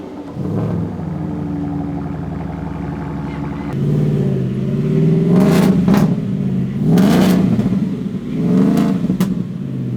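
A supercharged V8 in a Factory Five XTF pre-runner truck idles with a low rumble, then revs hard in several loud, rising bursts that fall back between pulls, close and dominant with no talk.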